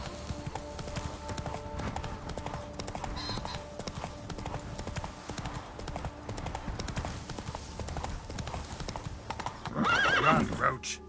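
Roach the horse gallops in The Witcher 3 with steady, loud hoofbeats throughout, and a whinny rises near the end; a voice talks over the hoofbeats.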